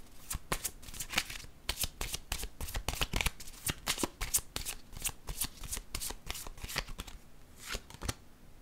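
Tarot cards being shuffled and drawn in a steady run of crisp, rapid riffles and slaps, close and fairly quiet, continuing alone for the whole stretch with no talk.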